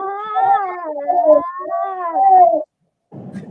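A cat meows loudly and close, long drawn-out wailing calls with a rising and falling pitch, two sustained cries followed by a brief pause and a rougher sound.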